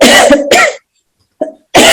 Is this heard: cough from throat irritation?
yes